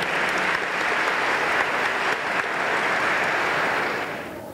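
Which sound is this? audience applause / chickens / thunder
audience applause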